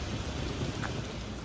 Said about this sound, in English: the rain is pushed in, so we'll try to wait it out.